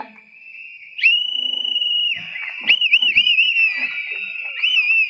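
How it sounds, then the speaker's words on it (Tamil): Shrill, piercing whistles ring out across a crowd at a TVK political rally in Velachery, Chennai: one long held blast, then several warbling, overlapping whistles with faint crowd noise beneath. "இந்த விசில் சத்தம் விண்ணை புலக்கும்"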